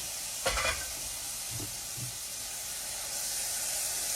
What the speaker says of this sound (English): We're going to saute them till they're a little translucent in those onions, okay?